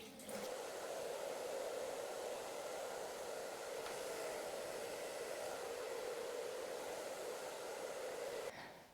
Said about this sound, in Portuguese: aí sim eu vou secar o meu cabelo agora